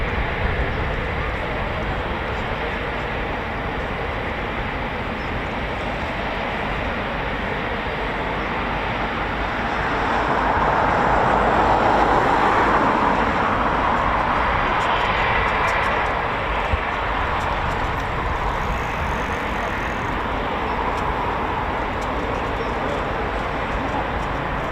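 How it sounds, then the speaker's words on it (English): A large aircraft at RAF Coningsby gives a steady, broad jet roar that stays loud throughout and swells a little near the middle, with no pauses. "we've got this very large aircraft here"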